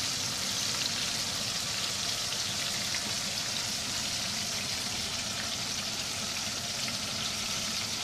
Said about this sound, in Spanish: vamos a dejarlo ahí que se fría un poco